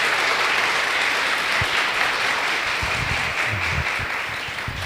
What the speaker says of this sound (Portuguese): Para o Senhor, uma salva de palmas bem bonita, né?